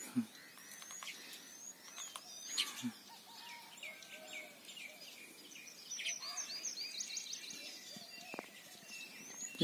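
Sparrows chirping at their own reflection in a mirror in Alampur, with repeated light tweets and calls over a faint buzzing background.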